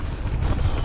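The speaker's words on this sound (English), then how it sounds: "it's quite windy at the moment. You might be able to hear." Heavy wind buffets the microphone on a mountain bike ride in the Lake District, a constant low roaring rumble with no other sounds, filling the whole short moment.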